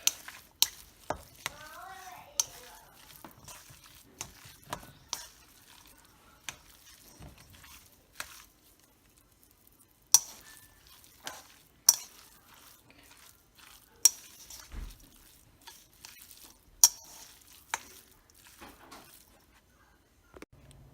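Pork dumpling filling mixed with marinade in a bowl gives soft, wet squelching and stirring with sharp clinks of a utensil against the bowl at uneven intervals, fairly quiet and close.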